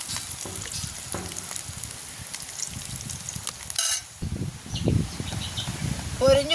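Food frying in oil in a pan in a village kitchen, a close bubbling sizzle with stirring scrapes and clatter, broken by a brief sharp clink and a pause, with outdoor ambience behind.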